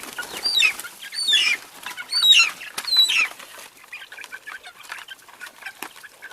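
Chickens in a chicken tractor give a run of four high, chirping calls in quick succession, followed by softer rustling and scratching movement; close and fairly loud, with no talking.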